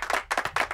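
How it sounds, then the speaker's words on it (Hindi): A handful of sharp hand claps in a Hindi-dubbed South Indian film classroom scene, three or four quick bursts close by, no voices over them. "तालियां बजाओ"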